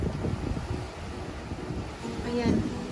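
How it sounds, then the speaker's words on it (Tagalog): Strong typhoon wind in Okinawa buffets the microphone in steady low rumbling gusts, with faint background noise and a brief tonal sound near the end. "Lumalakas na yung hangin"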